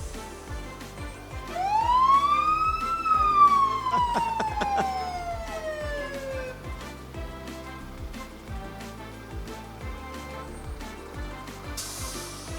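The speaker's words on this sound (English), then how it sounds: "All right, Coffee County, turn your sirens on." Emergency sirens from fire and county vehicles in a Christmas parade wail and sweep up and down, loud and sustained, with a steady rumbling engine underneath and other siren tones layered in.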